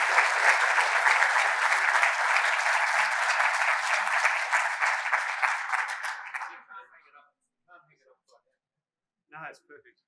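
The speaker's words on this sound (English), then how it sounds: "So will you please join me in giving Sam a round of applause?" Sustained audience applause at a mining club lunchtime event in Sydney, loud and dense for about six seconds before thinning into a few scattered claps and fading to near silence.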